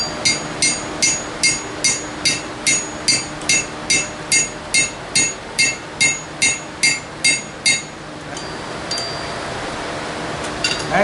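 Hot steel drift punch tapped into an anvil's picket hole by a blacksmith: about twenty sharp, ringing hammer blows in a steady rhythm, close and loud, then a pause with faint metallic clinks.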